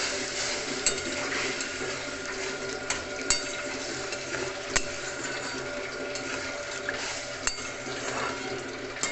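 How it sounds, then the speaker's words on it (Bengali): A spiced curry mixture with a splash of water sizzles while it is sautéed in a pan, a steady frying hiss broken by occasional sharp clicks and scrapes from stirring. "এবার এটাকে আমি কষিয়ে নিচ্ছি"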